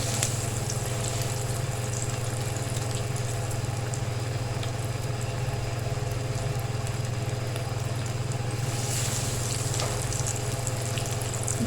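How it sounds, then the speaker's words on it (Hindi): Potato chicken cutlets frying in very hot oil, a continuous dense crackling sizzle over a steady low hum that holds evenly throughout, with a brief brighter flare of spatter near the end. "अब इसमें हम कबाब डालते जाएंगे अपने।"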